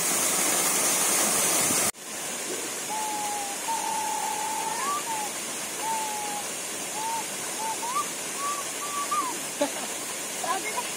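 A waterfall at Miklajung in Morang roars as a loud, constant rush of falling water, with a faint voice briefly heard under it; it begins with an abrupt cut in the noise.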